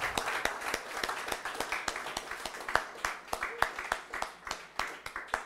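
Audience applause at a French political programme presentation, with sharp irregular hand claps from a modest crowd, moderately loud and continuous, some voices murmuring underneath.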